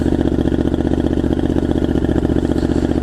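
A Triumph Scrambler 900 motorcycle idles with the choke on while warming up after three weeks unused, a steady, close, rapid engine pulse running evenly throughout with no voices.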